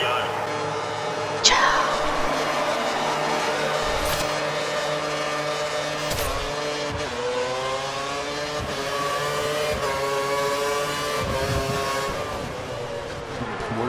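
A pack of race cars in a racing video game roars off the start at a Hungary circuit, engines revving and climbing through gears together, loud and continuous, with commentary talking over them.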